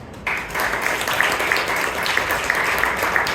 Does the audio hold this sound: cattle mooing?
no